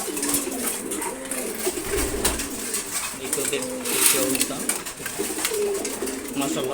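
Pigeons at their morning feed coo in a dense, continuous chorus of low rolling calls from many nearby birds, with a voice talking briefly over them and scattered clicks of pecking.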